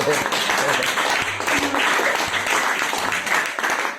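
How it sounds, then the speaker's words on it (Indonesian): Applause from a gathered audience during a religious talk, a dense, steady wash of clapping lasting the whole stretch, with voices mixed in under it. "Tepuk tangan bagi dia."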